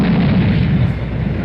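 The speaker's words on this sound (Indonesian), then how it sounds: "ledakan akibat beradunya dua tembakan pun terjadi" A powerful explosion erupts as two fire blasts collide head-on, a loud, sustained rumbling roar filling the whole moment without a break and with no voices.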